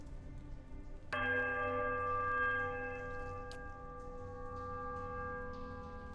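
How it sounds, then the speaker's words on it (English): A large bell in the video game Pillars of Eternity is struck once with a low, powerful note, its rich tone ringing out and sustaining as it slowly fades. "The clapper strikes a low, powerful note."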